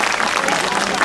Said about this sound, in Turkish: Kocaman alkış